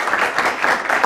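Studio audience applause on a Persian television comedy talk show, a dense, steady patter of many hands clapping throughout a brief burst with no voices over it.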